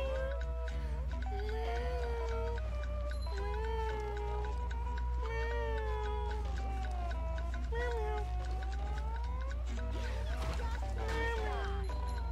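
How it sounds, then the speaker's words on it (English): A pet cat meowing indoors during a SpongeBob Battle for Bikini Bottom game session, a series of drawn-out wavering meows over a constant low hum and game audio. "my cat is meowing"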